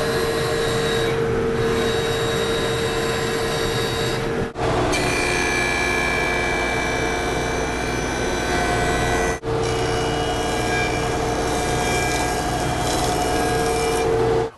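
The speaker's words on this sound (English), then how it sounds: "I'm going to take these over to the bandsaw and start rough cutting out some of the parts." Bandsaw rough cutting parts from wooden boards for a small hand tool workbench in a woodworking shop; a loud, steady whining cut that runs continuously with two brief dips between passes, no voices.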